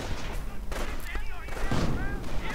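Scattered gunshots and blasts pop in a WWII strategy game battle, with shrapnel-like bursts and a house under heavy fire, mixed under continuous talking.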